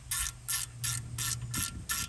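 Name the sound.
ratchet breaking loose bolts on car rear hub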